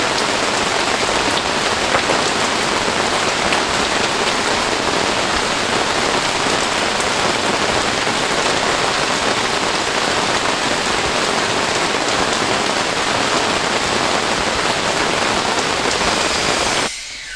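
Steady, heavy rain pours down on a Michigan building site with a solar shed, a dense unbroken hiss that fills the whole stretch before cutting off abruptly at the very end.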